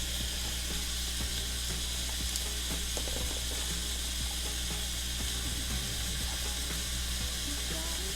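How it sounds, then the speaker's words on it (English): Ground meat browns in a pan for beanless chili, giving a steady close sizzle and crackle with occasional stirring scrapes and no talk. "I'm gonna let this meat brown."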